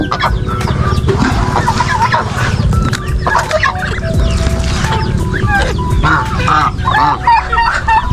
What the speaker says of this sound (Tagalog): Meron pa akong dalawang gansa na alaga.